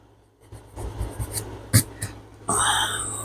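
Paper being folded for a journal belly band, close up: a few soft crinkles and creases, then a brighter rustling swish near the end, with no talking.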